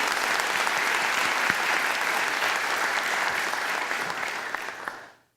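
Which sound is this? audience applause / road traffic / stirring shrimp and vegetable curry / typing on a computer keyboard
audience applause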